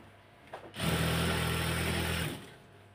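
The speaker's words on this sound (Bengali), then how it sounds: "এখন মাঝখানে দুটা সেলাই দিয়ে দিব।" A domestic sewing machine stitches a palazzo seam in one continuous burst of about a second and a half, a steady whirring hum with a bright mechanical buzz that starts and stops abruptly against quiet room tone.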